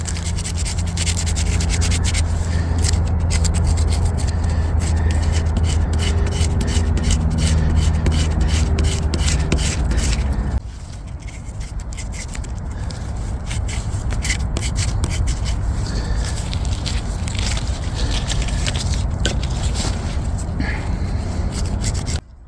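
A knife scrapes dead cedar inner bark into fine fibres with continuous rasping strokes, close and fairly loud, easing slightly in intensity halfway through; no talking.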